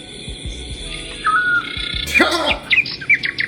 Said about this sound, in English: Birds, man. Birds.